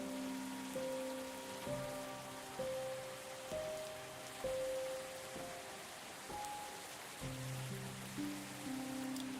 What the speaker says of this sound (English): There's currently rain in the background.